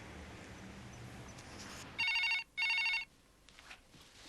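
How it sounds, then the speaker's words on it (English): An old landline telephone bell rings in two sharp double bursts, loud and close, after a stretch of quiet room tone with faint background murmur, set in a 1991 crime reconstruction. "Then, at 9 o'clock, Julie rang Dominic"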